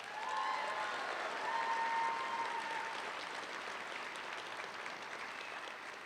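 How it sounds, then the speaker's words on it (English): Sustained applause from a high school graduation audience fills the hall for a full stretch, steady and dense, with a faint tone briefly sounding over it early on. "Can we get a round of applause for Scott"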